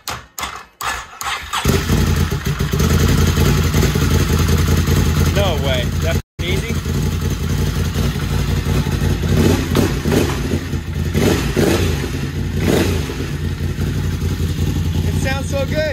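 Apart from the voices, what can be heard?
Can-Am Rotax V-twin engine starting and running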